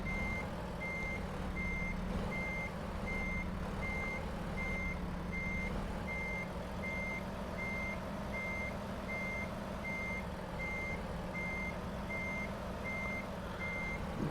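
A truck in a trucking simulator game backs up, its reversing alarm beeping in an even, regular rhythm over a constant low engine hum for the whole stretch.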